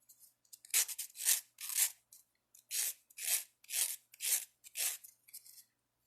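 Repeated rasping strokes of a sanding stick smoothing rough metal earring edges, about nine even back-and-forth passes, close and loud, with short pauses between them.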